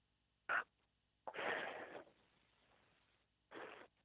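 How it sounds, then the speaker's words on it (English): Heavy breathing from a caller on a live phone line during a call-in broadcast: a short sharp exhale, then a longer noisy breath trailing off, and another burst near the end, faint and filtered. "Jimmy, you're on. I can hear you breathing."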